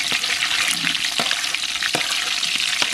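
Onion frying in a pan for biryani gravy over a wood-fired stove at a night party, a loud, continuous close sizzle with a few sharp clicks of stirring.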